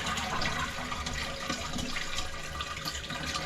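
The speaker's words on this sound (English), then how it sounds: "Give it a few flushes." Toilet being flushed, a steady broadband rush of water draining and refilling the bowl that runs nearly constant and fairly loud for the whole stretch, with no talking.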